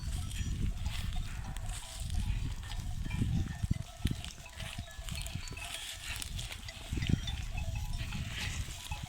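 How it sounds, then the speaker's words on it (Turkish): A flock of Kuzulu sheep and goats bleats on and off across a steady outdoor pasture background in a Sivas village, with several calls overlapping at moderate distance. "Kuzulu koyunlarımız."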